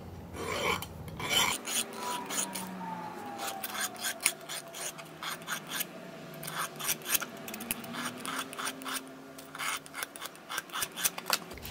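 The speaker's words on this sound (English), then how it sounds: "back on the file. File is not a saw." A metal file rasps against a custom lock pick, pushed in one direction only, giving repeated short scraping strokes, close and fairly quiet, with no talking.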